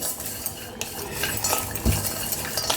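Whole spices lightly dry-frying in a hot wok, with clattering metal spoon scrapes and knocks against the pan over a soft background sizzle, close and irregular, no voices.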